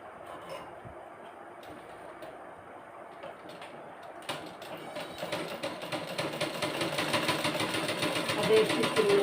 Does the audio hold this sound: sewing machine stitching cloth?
yes